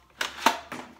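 Toy missile launcher from a customizer pack firing, a few close plastic snaps and clacks in quick succession, short and crisp with no talk.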